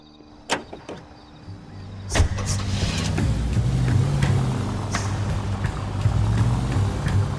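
Car engine rumbling steadily while driving in L.A. Noire, the detective's Nash sled, with a few sharp door or window clunks near the start, then a continuous low motor drone.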